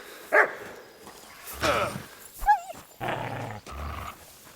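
A dog barks and growls during combat in the video game Kingdom Come Deliverance 2, with short bursts mixed with yelps, scuffling and a player's voice talking in between.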